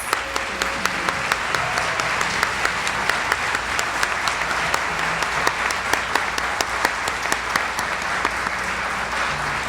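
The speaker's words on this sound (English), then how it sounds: "will y'all please stand for one more huge round of applause?" Sustained, enthusiastic audience applause for the Teachers of the Year at an awards gala: a large crowd claps loudly and evenly for nearly ten seconds, with a few sharp individual claps standing out above the dense wash.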